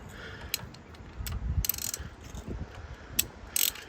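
A socket ratchet works at a badly corroded spark plug on a Mercedes-AMG E63 W213, giving faint, close clicking in short bursts with pauses between strokes.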